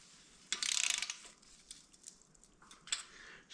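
A torque wrench ratchets on the exhaust manifold bolts of a VW EuroVan with a 24-valve VR6 engine, giving a quick, faint burst of clicks followed by a few sparse, softer clicks in a quiet space.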